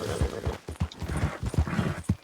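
Horse hooves clip-clopping in Red Dead Redemption 2, a steady run of close, distinct hoof beats repeating quickly through the whole stretch with no talk over them.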